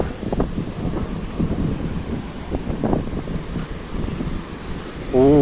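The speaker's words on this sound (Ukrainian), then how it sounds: "тут хвилі взагалі жорсткі" Rough storm waves pound the shore near Breeze Marine, Odesa, under gusty wind noise, with a few brief murmurs of voices.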